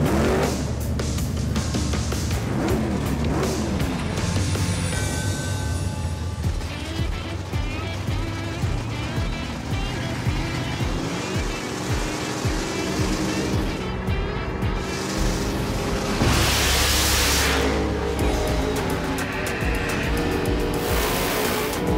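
Loud engine roar of a farm truck drag racing a Chevelle, motors revving and straining close by throughout with a surge near the end, voices faintly mixed in.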